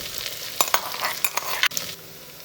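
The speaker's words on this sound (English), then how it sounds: "The frying process will take about 10 minutes." Sizzling and crackling of shallots frying in hot ghee in a pot, with a few sharp spoon clinks and stirring scrapes, steady and close.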